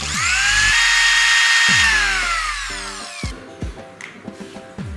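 Kitchen mixer grinder running, a loud close whine that spins up and holds, cuts out, then restarts in a few short bursts with pauses between.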